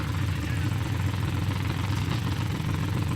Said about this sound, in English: idling up to the starting line.